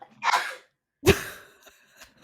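A single sharp sneeze bursts out close by, followed by a brief breathy tail and small rustling sounds, preceded by a short exhale.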